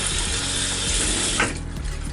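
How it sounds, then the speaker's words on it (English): A bathroom tap runs steadily while the water warms for face washing, a loud, close, continuous hissing splash with a slight change in tone near the end. "So I'm waiting for my water to get hot"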